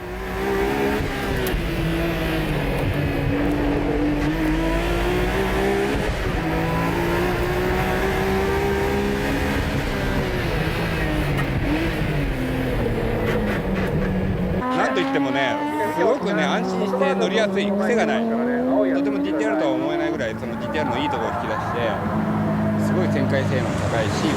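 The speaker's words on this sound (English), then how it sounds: "The car hasn't run on the Tsukuba circuit for a while now." The Mines GTR race car runs at Tsukuba circuit, its engine note rising and falling through revs with sweeping harmonic tones, loud and sustained, with a sharp change in character partway through as a voice talks over it.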